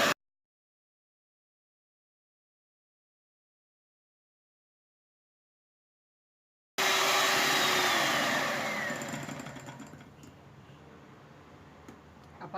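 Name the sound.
electric mixer beating whipping cream powder at high speed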